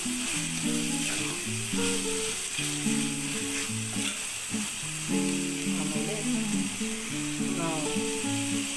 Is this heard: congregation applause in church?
no